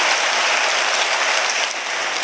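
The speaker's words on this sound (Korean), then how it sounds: "여러분 박수로 한번 격려해 주시기 바랍니다." Church congregation applauding during a Sunday service at a Korean Presbyterian church, a steady dense wash of many hands clapping at once, loud and continuous, easing slightly near the end.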